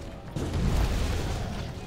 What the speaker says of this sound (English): Activate the explosions, please.